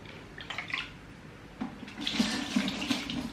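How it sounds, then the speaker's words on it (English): Tap water runs steadily into a sink for hand washing indoors, a soft continuous splash that swells louder in the second half with no talk over it. "So first we need to wash our hands."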